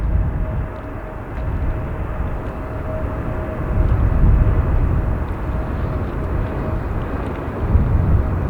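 A jet airliner passes close by near an airport runway during high winds, producing a loud, sustained roar with broadband rumble that swells and holds throughout, with no one talking.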